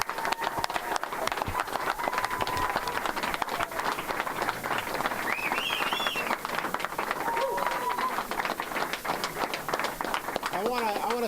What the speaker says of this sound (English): So let's give James one more round of applause.